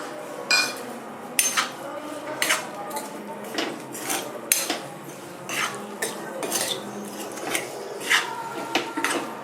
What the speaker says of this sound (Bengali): আমি যে ভাজা মশলাটা গুঁড়ো করেছিলাম এটা মিশিয়ে দিচ্ছি